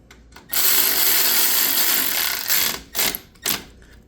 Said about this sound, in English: let me change direction of the ratchet